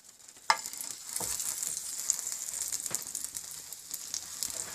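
Pav bread toasting in a generous amount of butter on a pan for Bombay-style pav bhaji: a steady, close, continuous buttery sizzle with scattered small pops and crackles, and no talking.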